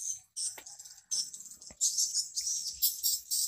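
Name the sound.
swiftlet calls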